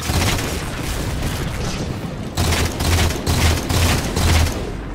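Gunfire in the Halo 4 multiplayer match on the Haven map, loud close bursts of shots in several quick volleys over a dense noisy game background, with no talking.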